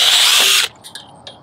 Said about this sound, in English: So I'm going to drill through the front of the hoop here and continue on through the board.